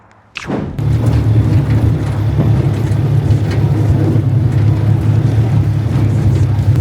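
A Forte ATV-300BS-T 4x4 quad bike starts moving after a brief thump, then its engine drones steadily and loudly with a low rumble, wind buffeting and rough rattling throughout.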